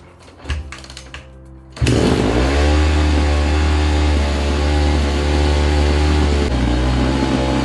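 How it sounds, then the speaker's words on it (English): A Honda CRF150R motorcycle engine started with the hot start lever, a few kicks and sputters then a loud, steady buzzing idle and revs that hold close and continuous for several seconds. "pull the hot start lever, start her up, and then adjust the idle after that"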